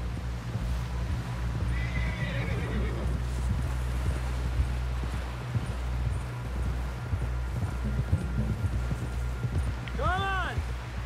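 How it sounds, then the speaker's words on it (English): In Red Dead Redemption 2, a horse neighs with a sharp, rising whinny near the end, while hooves clip-clop steadily under a constant ambient bed. "Someone help John down off this horse."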